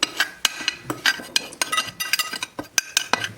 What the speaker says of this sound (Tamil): இது ஒன்றா மிக்ஸ் பண்ணுவோம்